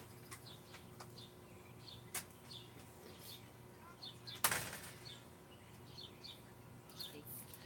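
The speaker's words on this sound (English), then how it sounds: "The birds are so loud here." Small birds chirp and tweet repeatedly at a distance over faint background noise, with a brief flutter or rustle partway through.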